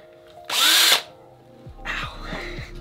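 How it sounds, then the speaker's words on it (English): A power drill bores hanging points in a moving blanket with a short, loud high whine lasting about half a second. A second softer burst of drilling follows, with light handling knocks in between. "the next step is to drill some hanging points up on the edges there"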